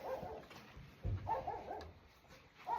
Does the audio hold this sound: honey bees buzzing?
no